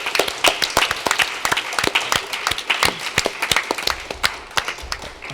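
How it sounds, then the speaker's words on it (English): A small audience claps for student debaters at a pizza-and-politics debate event, distinct individual claps in a quick irregular patter, close and fairly loud, tapering slightly toward the end. "Let's give a round of applause to all our debaters."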